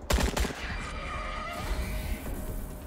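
Gunfire in the video game Wasteland 3, with a close burst of shots at the start followed by a ringing, echoing tail and fainter rumbling effects.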